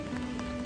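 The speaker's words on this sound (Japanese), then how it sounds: "また雨に見舞われてしまいましたけども" Rain falls steadily outdoors at historic ruins in Luoyang, Henan, as a dense, even patter with a faint constant hum beneath it. The moment is very brief and no one speaks.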